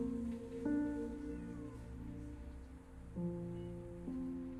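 A cat meows in the video game Copycat, giving a few drawn-out tonal calls at spaced intervals over a steady ambient game background.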